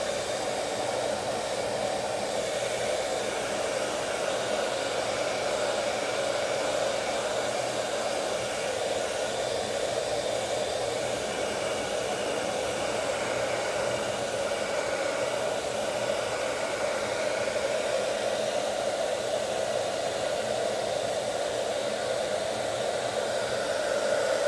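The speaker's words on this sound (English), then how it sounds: "I'm going to heat it up with the blow dryer one more time" A hair dryer heating a phone skin blows steadily for a long stretch, a constant loud whirring hum with no breaks or voices.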